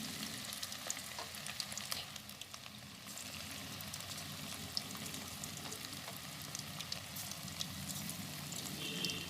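Chicken pakora deep-frying in hot oil in a village kitchen, giving a steady, close crackling sizzle with scattered pops and faint stirring, heard alone without talk.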